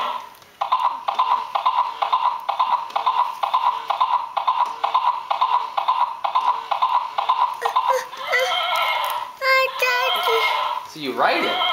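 A toy horse plays a repeating electronic neighing and galloping pattern, then a voice and other talk come in over it.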